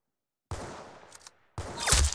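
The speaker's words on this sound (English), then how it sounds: "Very good shooting." In the Roblox game Arsenal, a short burst of gunfire is followed by a pause, then another louder burst of shots. The shots sound moderately close and are heard alone over otherwise quiet game audio.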